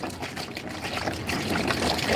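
Water pours steadily from a can into garden plant pots, a continuous close splashing trickle that grows slightly louder toward the end, with no talking.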